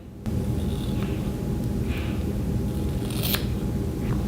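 Scissors cut through the hair of a blonde curly glueless wig, a few close snips set against a steady low hum of room noise, with no one speaking.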